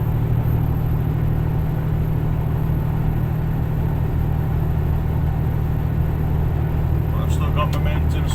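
A class 1 HGV truck climbs a hill in a lower gear, heard from inside the cab as a constant, loud, deep engine drone and rumble. A faint clatter comes in near the end.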